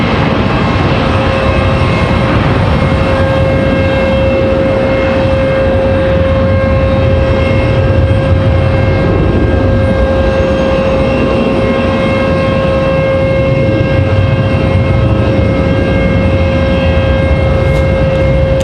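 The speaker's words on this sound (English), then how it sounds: "that Delta E175 getting ready to get out of here" A Delta Embraer E175 jet departing Raleigh-Durham International Airport makes a loud, sustained engine roar with a steady whining tone, unbroken and without talk.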